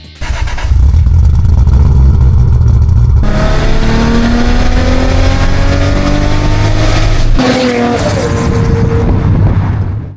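A turbocharged 1JZ swapped into a 1975 Datsun 280Z idles briefly, then revs hard and loud, holding a rising, smooth six-cylinder wail before dropping off and climbing again, close up and without talk.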